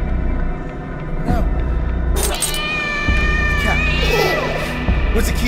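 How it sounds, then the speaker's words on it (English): A cat meows inside the horror game Layers of Fear, rising over a steady low game hum and rumble, with a clear meow near the middle; someone shouts excitedly over it. "Cat!"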